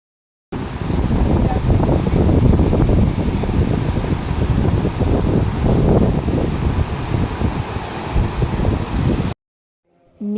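Steady, loud roar of wind buffeting the microphone with a rushing, flowing-water texture underneath, continuous for several seconds before abruptly stopping.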